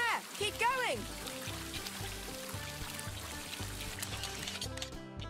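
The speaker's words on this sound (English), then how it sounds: "Aim the water stream at the hole so the water level rises." A water cannon stream pours into a hole in a Paw Patrol children's video game, a continuous gushing trickle blended with bright cartoon music and sound effects.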